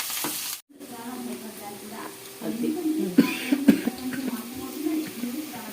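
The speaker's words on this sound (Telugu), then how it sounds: "కరివేపాకు, పచ్చిమిరపకాయలు, ఉల్లిపాయలు బాగా బ్రౌన్ కలర్ వచ్చే వరకు వేసుకుందాం." Onions, curry leaves and green chillies fry in a pan with a soft, steady sizzle. There are louder bursts and stirring scrapes partway through, and a voice speaks at times.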